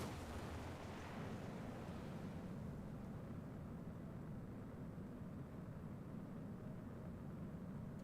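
Ullage solid rocket motors fire in Kerbal Space Program (Realism Overhaul) as a steady, loud, dense rumbling roar that holds for the whole stretch with no pauses.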